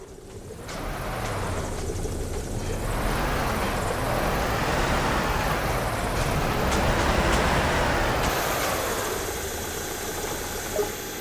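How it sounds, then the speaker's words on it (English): Engine of an airport ground tug driving in the AirportSim ground-handling game, a steady low motor drone with rising and falling revs over about eleven seconds, no talking. "Hop back in the tug and head over to the aircraft as indicated."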